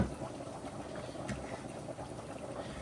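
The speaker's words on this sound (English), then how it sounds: "I'm going to mix this because it's bubbling." Pasta sauce for baked ziti bubbles as it cooks, a continuous soft gurgling and popping simmer heard close up, fairly quiet and steady throughout without speech.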